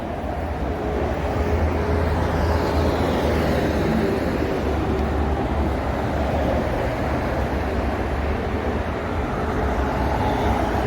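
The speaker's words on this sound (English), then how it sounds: "And here comes a C-Series train." A C-Series train pulls into a station on Perth's Thornlie-Cockburn Line, a steady broadband rumble and rolling roar that stays constant and fairly close for the whole stretch, with no talking.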